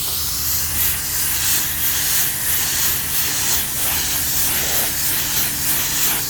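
Primer sprayed from a rattle can onto spots of a Ford F150 grille in a shop, a steady close hiss with slight pulses, running alone with no talk.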